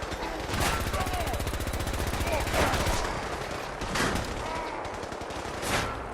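Rapid gunfire in the Fallout 4 video game during a fight with super mutants and a legendary raider, loud and near, with bursts of automatic fire running through the whole stretch and a few heavier blasts standing out.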